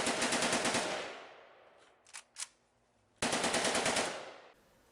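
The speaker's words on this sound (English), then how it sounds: "What you will see is a real AK-47 shooting." Two long bursts of rapid automatic fire from a real AK-47 rifle, loud and close, separated by a quieter gap holding a few faint clanks.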